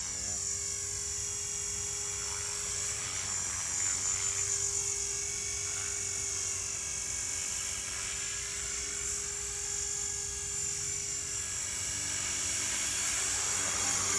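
An Align T-REX 450 V2 RC helicopter in flight gives a steady, high-pitched electric whine with a buzzing rotor hum, holding fairly constant throughout.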